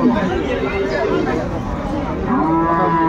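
A cow moos in a long, low call, then lows again after a pause, with a crowd murmuring and chattering nearby at a cattle market.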